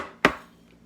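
A capsule-filling machine gets tapped once to shake loose powder, giving a single short hard knock followed by a faint fading ring in an otherwise quiet room.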